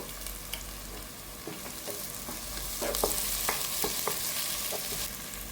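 Onion with ginger garlic paste fries in a pan, a steady close sizzle with occasional spoon scrapes and stirring clicks, no voices.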